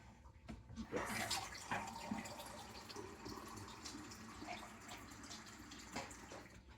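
Water pours into a soup pot as vegetable soup is made, a faint, steady splashing rush that carries on for several seconds.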